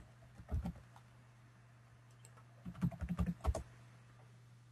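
Typing on a computer keyboard to log in: two short bursts of key taps, quiet and close, separated by a pause over a steady low electrical hum.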